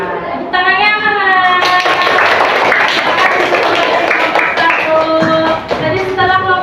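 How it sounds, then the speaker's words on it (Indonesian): A classroom of students claps after a group presents answers, steady applause and hand taps filling the room with some children's voices mixed in throughout. "Tepuk tangannya mana?"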